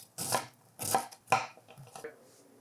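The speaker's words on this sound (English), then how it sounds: "Chop 1 medium fennel bulb, and then add that to the onion and leeks." Knife chopping a medium fennel bulb on a board, three firm close cuts followed by a few lighter, quicker taps, with no voices.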